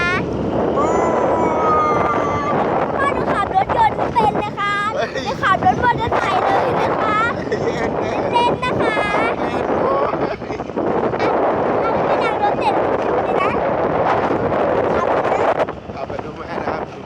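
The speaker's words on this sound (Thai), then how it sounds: "มันลมพัดเลยนะคะ" Wind buffets the microphone during a car ride, a constant loud rushing roar that continues under a girl's chatter throughout.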